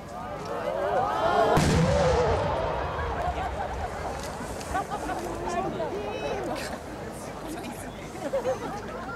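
Eight-inch firework shells burst at a fireworks competition in Aizu, with a loud boom followed by rolling crackle and a long echoing rumble under a murmuring crowd and an announcer's voice.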